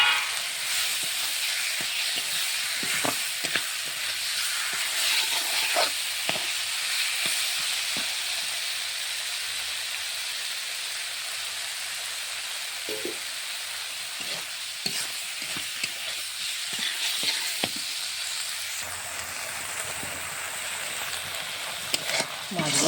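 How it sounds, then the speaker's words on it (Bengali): Prawns fry and are stirred through a spice paste for a red prawn curry, giving a steady close sizzle with scattered scraping stirs and clicks throughout, and no talking. "মশলাটা সুন্দর করে কষানো হবে, চিংড়ি মাছগুলো করে দিই।"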